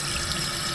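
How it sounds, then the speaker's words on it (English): Water running steadily from a tap in a park bathroom at a fort, with a continuous rushing hiss that stays even and close throughout. "That's me wasting water to make a little clip"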